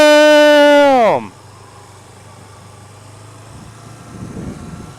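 A muscle car roars past at full revs, its loud engine note sweeping sharply downward in pitch as it goes by, then fading into a low road hum and wind noise.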